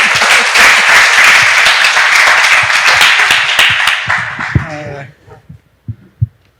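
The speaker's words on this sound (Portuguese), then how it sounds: "Palmas para Jesus." Church congregation applauding loudly for about five seconds, the clapping dense and sustained before it stops abruptly, leaving a few isolated low thumps and quiet room sound.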